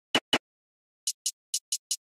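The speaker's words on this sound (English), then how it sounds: "To make this a hi-hat sample, we are pitching this down by 600 cents." A snare sample pitched down by 600 cents to serve as a hi-hat, heard as two low thuds and then five short, crisp, bright ticks spaced irregularly, alone with no talk.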